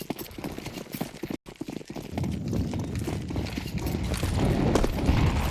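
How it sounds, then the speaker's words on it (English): Rapid footsteps patter across the Ancient map during a Counter-Strike ESL Impact tournament match, a fast, steady run of light taps with a busier, denser stretch toward the end. "surely should hear those footsteps"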